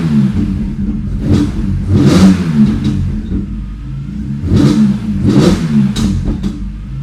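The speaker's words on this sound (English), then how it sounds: "And that is how the car sounds with the intake in." A BMW E46 M3 fitted with a carbon fiber CSL intake revs twice, each time rising in a loud throaty burst with intake roar before falling back to a lumpy idle, heard close and without talk.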